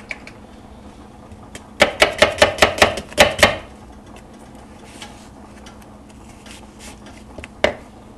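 A knife chops an onion on a board in a quick run of about eight sharp, close taps, then falls quiet until one last isolated chop near the end.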